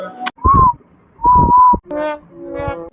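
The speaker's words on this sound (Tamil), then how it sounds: "என்ன சார் விசில்லாம் அடிச்சிட்டு இருக்கீங்க" Whistled melody in short sustained tones, two clear phrases with pauses between, followed by a brief snatch of singing-like voice; close and fairly loud.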